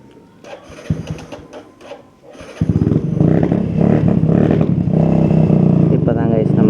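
Motorcycle on a road heading to college, starting with scattered handling noises and faint talk, then a loud, steady engine drone that settles into a continuous ride for the rest of the clip.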